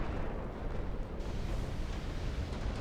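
Torpedoes striking a battleship in the naval game Ultimate Admiral: Dreadnoughts, a heavy, continuous rumbling blast with a deep boom that fills the whole stretch, loud and without talk.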